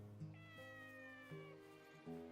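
A cat meows repeatedly in clear, close, tonal calls with rising and falling pitch, several separate cries over a couple of seconds with no talking.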